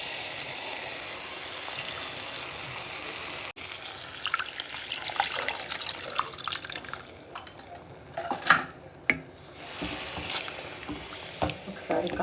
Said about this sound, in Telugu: చింతపండు పులుసు వేసుకుందాం.